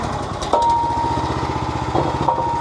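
A Wolfe Ridge 28C log splitter's small engine runs steadily and loudly nearby, with a constant buzzing drone and a brief pitch change as the wedge is fed gently.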